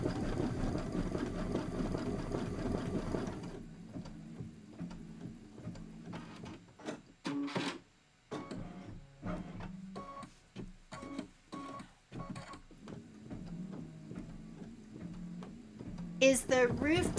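An embroidery machine stitches a scallop roof detail, its rapid needle clatter coming in bursts separated by short pauses, with a faint continuous hum between them and a louder clatter right at the end.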